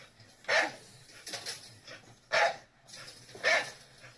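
A dog gives three short, sharp barks or yips spaced about a second apart, close and fairly loud, with quieter whimpering sounds between them and no talking.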